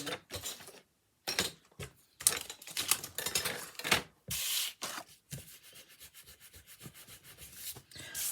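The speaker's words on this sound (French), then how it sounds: "Je vais gommer quand même. Je vais trouver ma gomme." Pencil eraser rubbing over paper: rapid back-and-forth scrubbing strokes in close bursts separated by brief pauses, dry and scratchy, with no talk.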